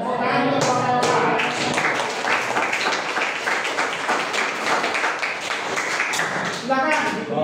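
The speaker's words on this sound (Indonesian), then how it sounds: "Tepuk tangan untuk kelompok" A classroom audience claps for a student group after its presentation, a dense, steady patter of hands filling the room with voices talking over it.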